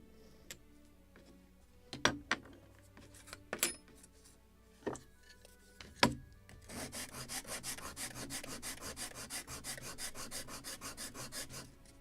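Edge of a wooden plank being chamfered for a model of the 1776 gunboat Philadelphia: a few sharp knocks and taps, then a long run of steady, close rhythmic rasping strokes.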